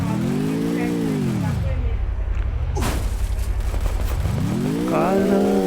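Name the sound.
car driving in Free Fire video game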